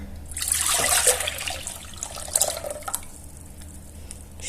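Sugar and fresh-squeezed mandarin juice are poured into a bowl, giving a close liquid splash and trickle that swells during the first second and fades into scattered drips.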